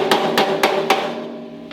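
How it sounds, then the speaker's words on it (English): Four sharp metallic hammer blows from a slightly crowned hammer strike a steel fender flare on an International Scout II, landing in a steady rhythm up close, each followed by a brief ringing decay. "we've got a smaller, just slightly crowned hammer, and I'm going to work on this area first to get this pulled out"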